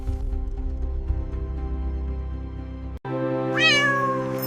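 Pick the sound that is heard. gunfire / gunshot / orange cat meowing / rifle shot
orange cat meowing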